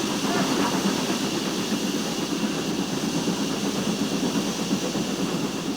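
A steam locomotive running near Sonning Cutting, heard from the footplate: a loud, continuous roar and hiss with a fast, steady rhythmic chuffing underneath, close and unbroken throughout.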